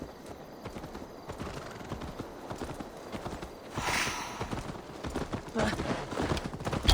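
Horse hooves clip-clop steadily at a riding pace through the fens of East Anglia in Assassin's Creed Valhalla, a continuous rhythmic patter close by, briefly swelling midway, with voices talking over it.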